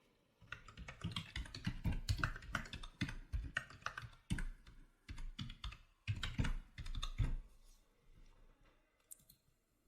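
Close, fairly quiet typing on a computer keyboard, coming in uneven bursts of rapid key clicks with short pauses between them, then trailing off into near silence.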